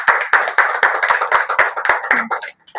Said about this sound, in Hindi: मैं चाहूंगी इसके लिए एक बार जोरदार तालियां